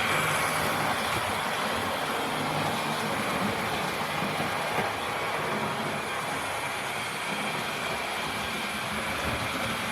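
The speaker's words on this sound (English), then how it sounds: "we're looking at a 16-year-old locomotive flying around my track" Model locomotive running around a home model railway track, giving a constant, dense rushing whir and rumble that holds steady the whole time with no breaks.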